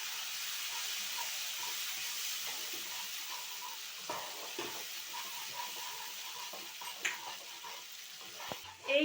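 Ground tomato is added to green peas frying in a pan. A faint, steady sizzle runs under soft scraping stir strokes, with a few louder clinks near the end.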